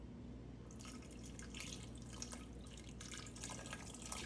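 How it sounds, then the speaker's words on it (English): Beef broth, made from beef base mixed with water, is poured into a Mississippi pot roast with a soft, steady trickle and light splashing, faint and alone. "next we're gonna add about a cup of beef broth"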